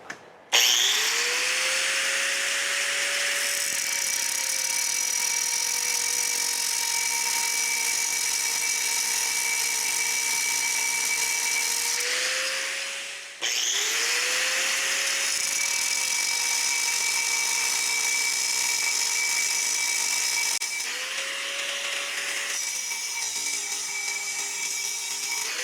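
A power tool grinds and cuts through a standard brake rotor, a loud sustained whining drone with a steady high tone that dips in pitch under load, pausing briefly midway before resuming.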